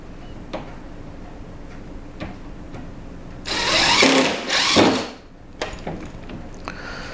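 A drill drives countersink bits into wood while a custom entertainment center is built. Two loud, sustained grinding bursts come close together midway, with scattered light taps and ticks before and after.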